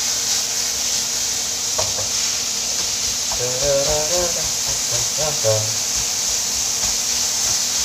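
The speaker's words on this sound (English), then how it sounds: "Cooking my meat." Pork mince fries in a pan on a stovetop, a steady close hiss and sizzle with scraping stirring strokes in the middle of the stretch, no voices.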